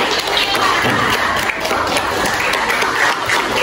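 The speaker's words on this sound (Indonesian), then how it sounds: "Oke, beri aplaus dulu untuk Jaya" A classroom audience of students and teachers applauds a student, with dense, continuous clapping filling the room, close and loud throughout.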